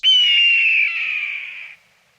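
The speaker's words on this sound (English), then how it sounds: "That's the call of a red-tailed hawk." A red-tailed hawk lets out a single loud, drawn-out raspy scream lasting under two seconds, sliding slightly downward in pitch and fading at the end against near silence.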